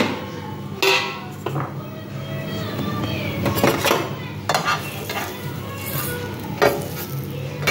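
Bread slices frying crisp in a pan for a sandwich give a soft continuous sizzle, with intermittent scrapes and clinks of a spatula against the pan, close up and without speech.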